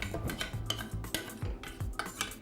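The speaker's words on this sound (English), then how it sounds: "So give it a good stir as we go along, and in comes the chocolate." A spoon stirring chocolate in a pan, rhythmic scraping and clinking strokes at close range, fairly soft, with no talking.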